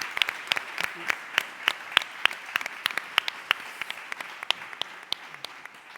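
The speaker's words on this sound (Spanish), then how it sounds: "Yo creo que se merece un aplauso." Audience applause at a round-table panel discussion, a steady patter of many hands clapping together for several seconds, fairly close and without talk over it.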